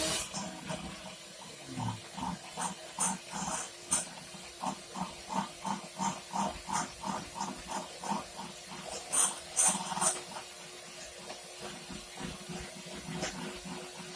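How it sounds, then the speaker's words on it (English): An electric mixer creams cake batter for a pineapple upside-down cake, giving a steady whirring hiss with a rhythmic pulsing beat as the beaters work through the bowl, heard alone without talk. "now we can switch over to our electric mixer."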